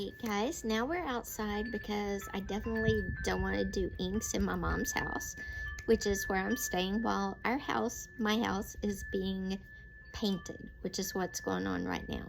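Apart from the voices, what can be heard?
wind chimes blowing in the wind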